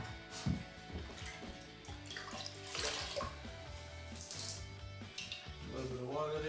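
Water poured into a bucket to mix self-leveling underlayment for a floor, a steady trickling and splashing that runs throughout at close range over a busy, cluttered background.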